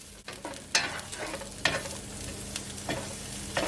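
Beef and onion sautéing in a pan for stir fry, with a steady sizzle broken by a few sharp scrapes and clatters from stirring, close and fairly loud, with no talking.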